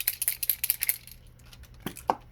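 A Liquitex acrylic spray paint can shaken hard, a quick rhythmic series of rattling clicks over about a second, followed by a couple of separate knocks, close and fairly loud.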